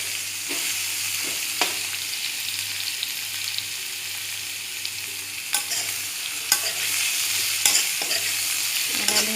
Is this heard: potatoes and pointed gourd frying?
yes